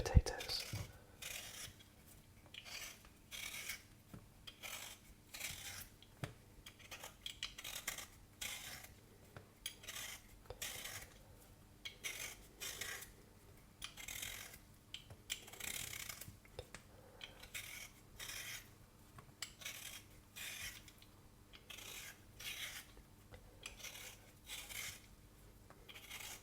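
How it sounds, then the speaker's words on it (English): Potatoes being peeled by hand for a British shepherd's pie, producing close, soft repeated scraping strokes in a steady rhythm, with quiet whispered speech at times. "the first thing I need to do is just to peel some potatoes"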